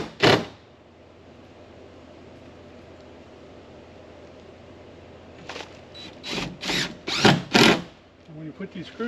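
Power drill driving short decking screws to fit the windows of a wooden hunting blind in the Missouri Ozarks: one brief burst near the start, then a run of four or five short whirring bursts after a quiet stretch, close and fairly loud.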